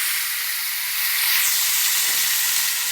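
Eggs, soybean chunks and potatoes fry together in a pan with a steady, close hiss and sizzle of hot oil that stays even and unbroken throughout.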